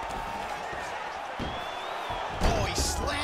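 A fighter gets slammed onto the canvas in the UFC 4 video game, Daniel Hooker vs Raphael Dos Anjos, producing a sudden heavy thud that rises out of a steady crowd roar.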